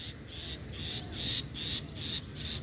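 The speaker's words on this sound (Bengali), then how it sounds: "পাখির ডাক" A bird calls outdoors near a river and farmland, a steady run of about seven evenly spaced high, hooting notes repeating without pause over a low background rumble.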